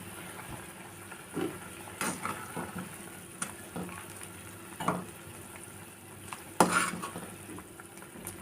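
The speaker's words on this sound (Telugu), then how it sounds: "చూడండి బాగా మరుగుతుంది కదా" Dry prawn curry cooking in a pot, a soft continuous simmer broken by occasional clinks and scrapes of a spoon stirring against the metal, close and fairly quiet.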